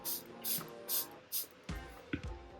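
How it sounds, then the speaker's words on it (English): Four quick, short hissing sprays from a spray bottle in an even rhythm, followed by a few soft handling clicks and bumps. "Spray."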